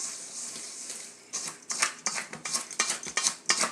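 A whisk clinks rapidly against a bowl, mixing dry flour-based coating ingredients for homemade chicken shake-n-bake, in a quick, irregular run of close scraping taps that grows busier in the second half.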